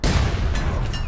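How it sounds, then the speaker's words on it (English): A grenade detonates in the online shooter APB Reloaded, giving a loud, close burst with a rumbling low tail that fills the short moment, no voices over it. "Grenade coming in."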